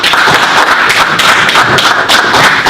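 A classroom of students claps for a student teacher, a loud, dense burst of hand clapping that stays steady and close for a few seconds.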